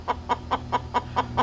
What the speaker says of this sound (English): See, this is actually not a normal sound for my hens to make while going broody.